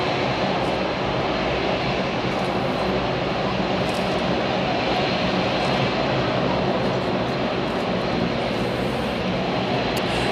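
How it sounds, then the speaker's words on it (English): Jumbo jet engines roar steadily at Hamburg Airport, a loud, unbroken broadband rumble that fills the whole stretch with no voices. "ich höre jetzt Jumbo-Jet hier"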